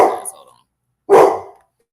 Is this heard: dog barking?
yes